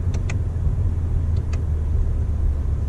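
A 2019 Toyota Avalon with an 8-speed direct-shift transmission downshifting through the paddle shifters: a steady low engine and road rumble inside the cabin, with a couple of faint clicks, no speech.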